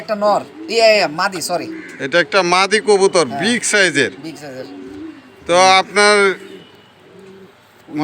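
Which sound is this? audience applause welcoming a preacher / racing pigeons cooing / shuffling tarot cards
racing pigeons cooing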